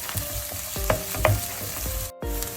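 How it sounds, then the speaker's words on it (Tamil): Onions, green chilies and dried red chilies sautéing in a pan: a brief close sizzle punctuated by a few sharp clinks of a stirring spoon. "இந்த வெங்காயம் பச்சை மிளகாய் கொஞ்ச நேரம் வதங்கி கொண்டு வர இந்த செத்தல் மிளகாய் ஒரு 3 மிளகாய் சின்ன சின்ன நான் வெட்டி வச்சிருக்கிறேன்"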